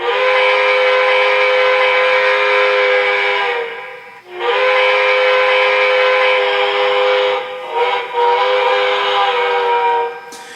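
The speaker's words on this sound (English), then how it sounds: "The whistle sounds similar to a Pennsylvania Railroad 3 chime whistle." An HO-scale BLI Paragon 2 Pennsylvania Railroad K4 steam locomotive model sounds its three-chime steam whistle: two long, loud sustained chord blasts with a brief gap, followed by shorter toots, with no talking.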